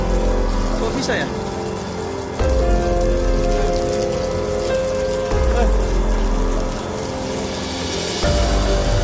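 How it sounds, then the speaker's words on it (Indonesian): Rain pattering steadily on a single parked car while the surroundings stay dry, a dense close drumming with people talking over it. "Ini di sini doang hujan, lihat."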